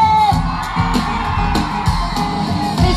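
A crowd of women at a Ninel Conde show in Tehuacán, Puebla whoops and shouts loudly together, a dense, continuous burst of high-pitched yelling and cheering.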